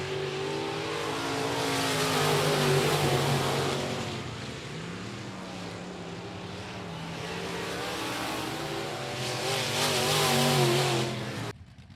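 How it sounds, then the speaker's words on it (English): Race cars running laps at I-37 Speedway keep up a loud, continuous engine roar that rises and falls as they accelerate and sweep past, cutting off abruptly at the end. "Ryan Doyen from Lacrosse going to bring home the checkered flag heat race win number 1."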